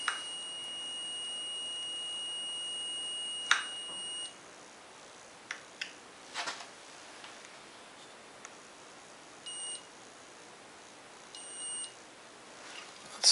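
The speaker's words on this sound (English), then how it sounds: "Okay, the beeper's going." Electronic beeping from a tester set on an outboard motor magneto: a steady high tone that cuts off, then scattered short beeps and clicks against a quiet hiss, another long tone returning at the end.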